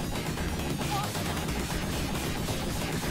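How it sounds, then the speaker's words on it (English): Dense, continuous gunfire from the 1989 Konami Aliens arcade game rattles without pause, loud and close, with possible faint voices mixed into the din. "I'm just gonna stand here and fucking fire at this thing now"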